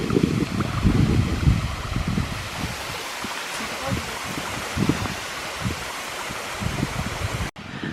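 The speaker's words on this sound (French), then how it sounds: "on part voir un autre site spectaculaire, la cascade du Rouget" The Cascade du Rouget waterfall, where two small falls merge into one, roars with a steady broadband rush of falling water. The sound is loud and continuous and seems heard from nearby. There is some low rumble and handling noise early on.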